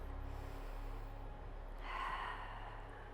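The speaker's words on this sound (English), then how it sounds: "deep breath" A deep breath drawn during a gentle postnatal yoga flow, seated with hands on the heart; a soft, airy inhale and exhale rises about two seconds in over a steady low background hum.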